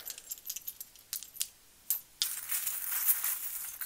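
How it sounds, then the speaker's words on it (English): Dice and small metal charms are poured onto a surface. A few light clinks come first, then a dense, bright jangling rattle as the pieces tumble and settle, with no talking. "I'm going to pour you a dice as well and see."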